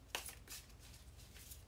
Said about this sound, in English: I need to shuffle this well